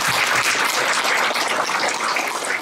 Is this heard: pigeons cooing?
no